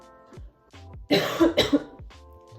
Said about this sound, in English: That's not a COVID cough.